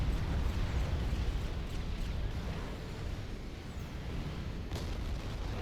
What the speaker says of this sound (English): There go my nukes